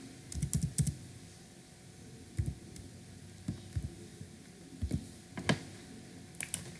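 Keys clatter in short irregular bursts as someone types on a computer keyboard, entering employee records into an Excel data-entry form, close and fairly quiet over a faint steady room hum.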